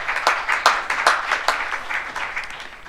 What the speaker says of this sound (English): That's the first clap that I've heard in the whole, in mid session.